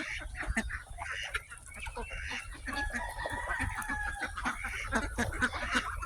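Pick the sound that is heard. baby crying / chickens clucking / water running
chickens clucking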